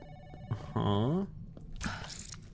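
Squishy death sound in a video game: a wet squelch followed by a short gliding, warbling tone, then a brief splashy burst, all fairly quiet.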